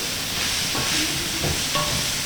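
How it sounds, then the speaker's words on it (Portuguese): Water boiling in a pot for paella broth, a steady bubbling hiss with soft irregular pops, close and continuous with no talking. "Estou com a água fervendo aqui."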